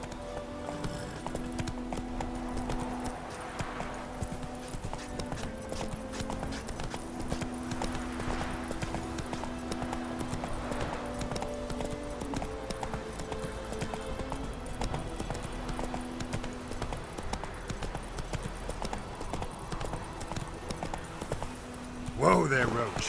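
Horse hooves clip-clopping in The Witcher 3, steady rhythmic hoofbeats over a background music bed, with a brief whinny-like burst at the end and talk in the scene.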